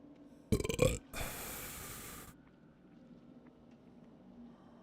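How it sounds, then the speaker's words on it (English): A loud, close burp from a livestreamer, one rough, drawn-out belch preceded by a short burst of noise, followed by quiet room tone. "Thank you for the burp."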